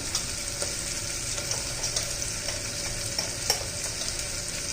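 Onion and eggplant sizzle steadily in a frying pan, being stirred, as turmeric goes in while making sambar; a loud, continuous crackle with no talk.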